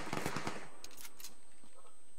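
A quick rattle of several gunshots in rapid succession in PUBG Lite, then a couple of fainter shots, muffled and game-like with no talking.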